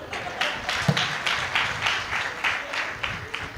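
A group claps along at a church field training session, a steady run of roughly eight rhythmic handclap bursts at moderate distance, with faint background murmur.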